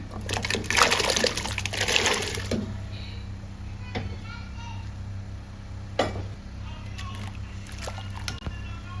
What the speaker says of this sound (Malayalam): ചൂടായ വെള്ളത്തിലേക്ക് നമ്മൾ കപ്പ വേകാൻ വെക്കുകയാണ്.